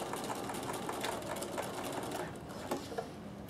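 A Bernina sewing machine stitching fabric, running in a steady rapid mechanical whir with a continuous clatter of stitches, close and loud, with no talking.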